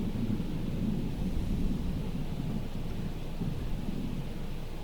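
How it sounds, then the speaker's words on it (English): Thunder from a lightning storm in Microsoft Flight Simulator, a steady, loud low rumble rolling continuously through the whole stretch with rain-like noise mixed in and no voices. "And there's that last burst of lightning."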